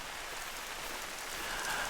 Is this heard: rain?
yes